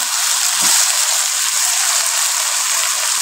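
Water poured into a pot of masoor lentils with ajwain, a steady close hiss-like rush lasting the whole few seconds with no talk over it.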